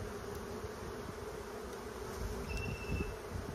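Honey bees hum in a continuous, even drone throughout a hive inspection, close and steady with no talk.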